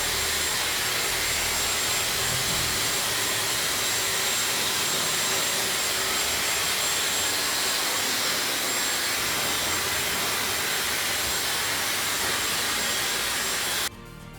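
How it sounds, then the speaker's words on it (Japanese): A hair dryer blows steadily at a salon as short bob hair is dried after a dry cut, giving a loud, continuous airy roar that stops abruptly at the very end. "家でドライヤーをかけるように風を当てながら乾かしていきます。"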